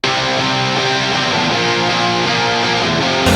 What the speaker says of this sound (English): So that's actually quite a bit of compression on these guitars.